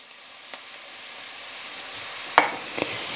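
Flour stirred into hot fat in a pan gives a soft, steady sizzle, with a few sharp scrapes and clinks of the utensil against the pan near the end.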